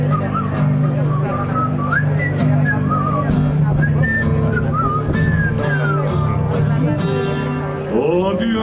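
Melodic whistling in a Finnish comic couplet song performance, a sustained tune carried over steady instrumental accompaniment, loud and close throughout.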